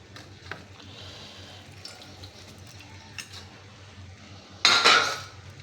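Washed vegetables go into a pressure cooker in a home kitchen: faint scattered clinks, then a sudden loud clattering rush of pieces tipping into the metal pot near the end.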